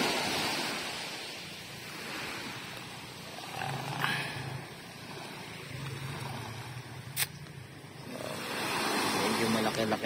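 Broad washing noise of surf breaking on a shore at Macnit beach, Polillo Island, swelling and easing over the clip, with wind and people talking nearby.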